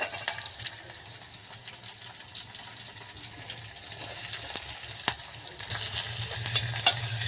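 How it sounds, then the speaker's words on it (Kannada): Chopped onions fry in hot oil with a soft, even sizzle and occasional stirring clicks. The sound grows somewhat louder toward the end, and there is no speech. "ಇಷ್ಟು ಉಳ್ಳಾಗಡ್ಡಿನೂ ಹಾಯ್ಕೊಂಡ್ಬಿಟ್ಟಿನಿ ಇದಕ್ಕೆ ಚಂದನ ತೆಗೆದ ಫ್ರೈ ಮಾಡ್ಕೊತೀನಿ ಕೆಂಪಾಗಂಗೆ"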